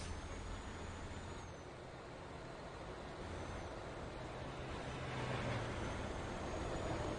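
A fire truck drives along a road in Euro Truck Simulator 2, its engine giving a steady low rumble with a hiss of air brakes. The rumble swells slightly toward the end.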